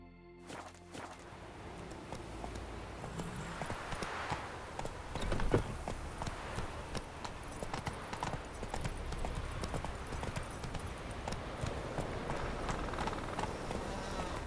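Roach, the horse in The Witcher 3, trots along with a steady clip-clop of hooves that grows slightly louder midway, with ambient game sound and no clear speech.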